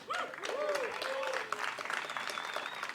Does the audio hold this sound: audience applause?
yes